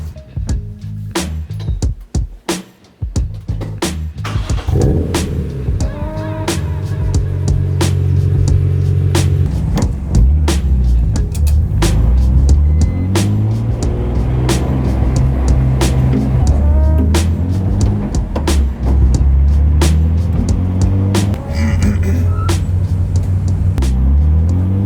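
A rebuilt BMW E46 M3 heading out for laps at the Nordschleife: a brief quiet start, then a loud close engine roar that climbs and falls through gear changes with sharp knocks and clatter over it.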